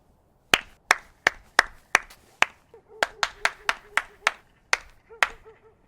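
Sharp, separate hand claps ring out in the open air outside a house, about a dozen in two uneven bursts, loud and close with short gaps between each clap and a brief pause in the middle.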